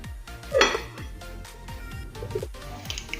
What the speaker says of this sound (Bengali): এখন 1 ঘন্টা ঢাকা চাপা দিয়ে সাবুটা রেখে দেবো।